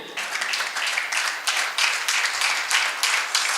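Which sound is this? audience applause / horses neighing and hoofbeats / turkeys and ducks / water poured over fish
audience applause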